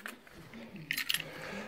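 Keys jangle with a few brief, quiet metallic clinks during work on a 1994 Range Rover, soft and close against faint background noise.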